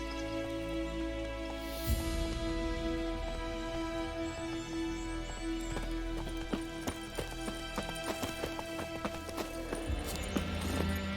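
A horse gallops in the video game The Witcher 3, with steady, rhythmic hoofbeats pounding continuously and close under a sustained layer of game ambience and music.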